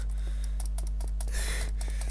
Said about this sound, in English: Sorry guys if my keyboard's quite loud.